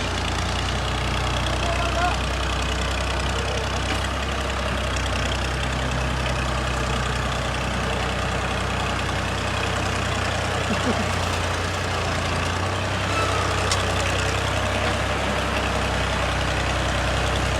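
A heavily loaded sugarcane truck idles with a steady low engine rumble that runs the whole time, close and constant, with faint voices in the background.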